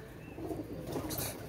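A Kamakar pigeon from a running breeding pair coos softly and close by: a low, repeated burbling call over faint background hiss, with no talking.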